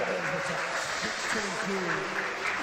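A crowd at the 2022 World Para Swimming Championships in Madeira cheers steadily as a swimmer comes in to touch the wall, with echoey pool-hall noise and a commentator talking over it.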